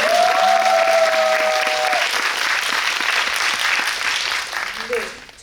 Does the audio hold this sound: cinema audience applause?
yes